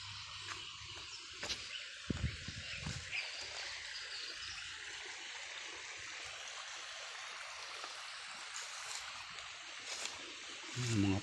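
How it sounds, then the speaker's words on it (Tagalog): A river stream flows in a soft, continuous trickling wash, fairly faint and close, with a few brief knocks and rustles and occasional low voices in the background. "Sarap pahinga sa tabi ng ilog."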